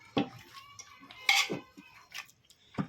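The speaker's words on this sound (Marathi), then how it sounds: "बारीक बारीक करून घ्यायचं का आपल्याला मॅश करून घ्यायला लागतं" Boiled vegetables being mashed in a pot for pav bhaji, a series of separate metallic knocks and scrapes of a utensil against the pot, close and sparse.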